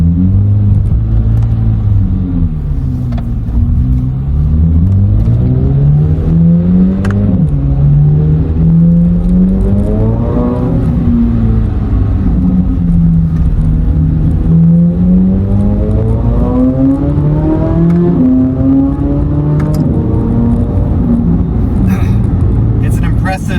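A 2023 Chevrolet Corvette C8 Z06 with the 3LZ package revs its engine, the note sweeping up and down through several rising and falling pulls as a loud, continuous, close rumble with a whirring edge, and a voice is heard over it.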